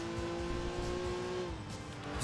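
A Honda NSX's high-revving C-Series engine in the Enthusia Professional Racing video game holds a sustained, fairly quiet whine that drops slightly in pitch near the end.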